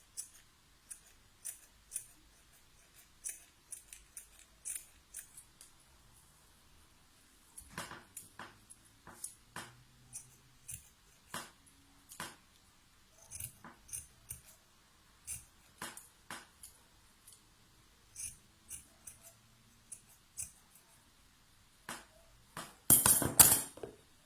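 Scissors snip again and again through a small yarn pom-pom made with a fork, giving quiet, sharp clicks in irregular bursts with pauses, and a louder rustle at the very end.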